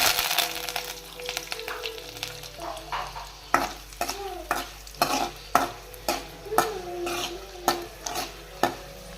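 Curry leaves fry in hot oil in a pan while a spoon stirs them, giving a steady sizzle punctuated by regular, sharp scraping strokes close at hand.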